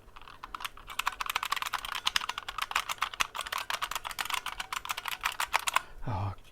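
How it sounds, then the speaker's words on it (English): Rapid, dense typing on a bucklespring keyboard, with loud crisp clicks running steadily for several seconds, close up and with no talking over it. A brief swooping noise closes it. "One bucklespring keyboard."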